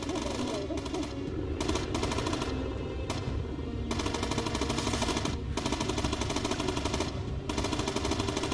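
Machine guns in the Bomber Crew video game rattle in long, dense automatic bursts. The fire is loud and continuous, with short gaps between volleys, and faint voices sit under it.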